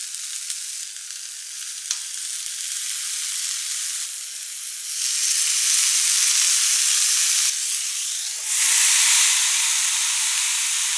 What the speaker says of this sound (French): Mon grill est chaud, c'est parti pour la cuisson.